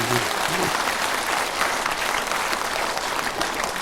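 Audience applauding at a Buddhist dharma talk at Hwaamsa temple, a steady dense wash of clapping that fills the whole moment, with a brief voice at the start.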